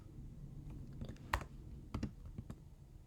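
Keystrokes on a computer keyboard while entering game-object code, a few scattered clicks and taps spread irregularly over a few seconds, close but fairly quiet over a low background hum.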